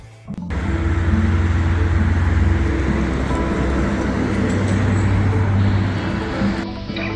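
A Volvo XC60 pulls away from a Volvo service centre, heard from inside as a steady low engine and road hum that rises quickly and holds evenly before easing off near the end.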